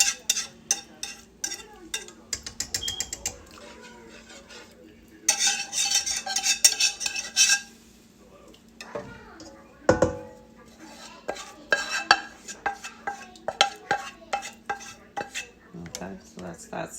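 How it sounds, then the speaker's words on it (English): A macaroni and cheese mixture is stirred hard in a bowl, with repeated clinks and scrapes of a utensil against the dish coming in bursts between pauses, close and crisp. "I'm gonna have to stir it in real good"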